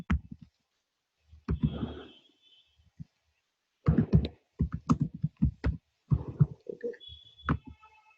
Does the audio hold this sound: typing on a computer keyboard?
yes